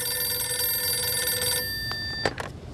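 An old-style telephone bell rings steadily and loudly for about a second and a half, its tones stopping abruptly; a couple of brief clicks and knocks follow, with no talk.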